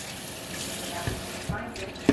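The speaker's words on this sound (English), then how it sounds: "pour this down the drain." Water pours and splashes into a sink drain while washing greens and chicken, a steady gurgling stream with a few small clunks, heard close up.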